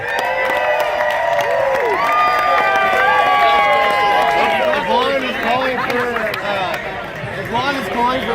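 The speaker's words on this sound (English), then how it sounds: "A round of applause for all our contestants." Audience at an eating competition claps and cheers for the contestants, a loud, dense crowd roar with shouts and whistles blending together over steady chatter and voices throughout.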